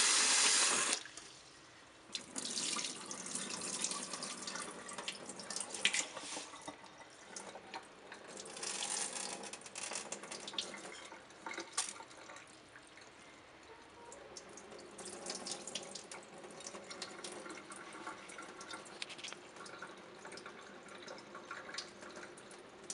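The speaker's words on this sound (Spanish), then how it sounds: "Lavamos el arroz." Rice being washed in a sink under a running kitchen tap, a steady broadband rush of water with splashing and dripping that shifts as the grains are stirred, close and alone with no talk.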